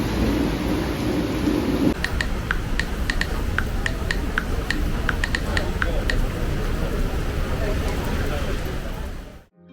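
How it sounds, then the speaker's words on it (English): Heavy rain downpour in a Hong Kong street, a dense steady roar of rain throughout, with faint scattered ticks and drips over it. "there is a heavy downpour"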